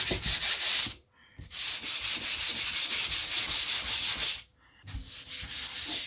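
A board is hand sanded gently with quick, even back-and-forth rasping strokes, close and rhythmic, broken by two short pauses.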